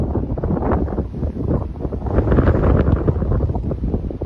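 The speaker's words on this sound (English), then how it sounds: "Wind is a little strong, but the view is spectacular" Strong wind buffeting the microphone on the Blood Mountain summit along a hiking trail, a loud continuous roaring rumble with gusty surges and no speech.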